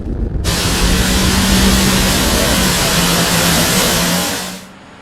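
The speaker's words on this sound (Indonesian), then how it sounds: "Mobil ini bisa melewati genangan air dan kabinnya tetap kering." A low MPV car ploughs through deep standing water, a loud continuous rushing spray with an engine drone underneath, building quickly and fading out after about four seconds.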